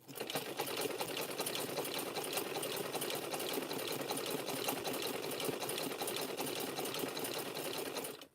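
A sewing machine runs continuously, stitching a length of rope held flat beneath the foot for a rope chain or basket, a steady close-up whir of rapid needle strokes lasting about eight seconds before stopping abruptly.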